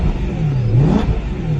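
A BMW M3 engine, just started, revs briefly: a steady close rumble swells into one short rise in pitch and falls back to idle, loud and with no talk.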